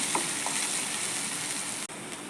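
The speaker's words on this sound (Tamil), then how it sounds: "அதுக்கு பச்சை மிளகாய், வெங்காயம் கொஞ்சம் வதக்கிக்கலாம்." Green chillies and onions sautéing in a pan, a dense steady sizzle with faint stirring touches, close and unbroken apart from a brief dip near the end.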